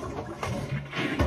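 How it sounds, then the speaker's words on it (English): A toilet flushes, giving a short, rushing burst of water that is fairly close and plays alone, with no talking. "Flush it"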